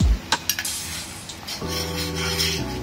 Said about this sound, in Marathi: ऑइल मिक्स करून घेतले